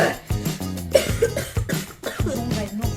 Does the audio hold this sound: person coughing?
yes